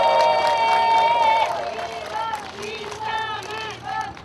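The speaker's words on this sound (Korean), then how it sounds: "여러분 큰 박수 부탁드리겠습니다." Crowd at a Korean election campaign rally in Jungnang cheering and clapping, with loud tonal chanting or amplified voices over dense hubbub, fairly close and continuous.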